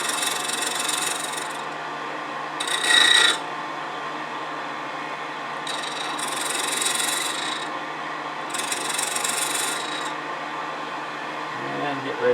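A woodturning lathe spins a small wooden spin-top ornament while a tool rounds over its rim, producing a steady near rasping hiss in several separate bursts over a constant low motor hum.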